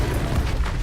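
A fire spell cast in Hogwarts Legacy, heard as a loud, dense, rumbling burst of low boom and crackle that fills the whole short moment without letup.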